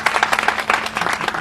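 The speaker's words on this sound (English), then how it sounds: "Let's give them a nice round of applause." A crowd claps steadily for over a second, dense overlapping hand claps at even loudness with no talking.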